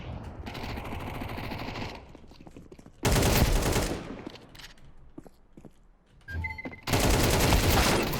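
Gunfire in the Counter-Strike 2 video game, loud sustained bursts of automatic fire broken by brief lulls, with no talk over it.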